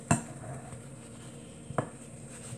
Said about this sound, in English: Let me firstly get a smaller bowl